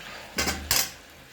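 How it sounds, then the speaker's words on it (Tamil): A metal lid is set onto a pot of mutton curry, two quick close clinks in succession against a quiet kitchen background. "நல்லா மிக்ஸ் பண்ணிட்டேன் இதை இப்போ அப்படியே மூடி விடுவோம்"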